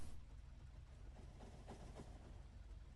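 A train rolling along in the video game Factorio, a faint, steady low rumble with soft rhythmic clatter throughout, heard alone.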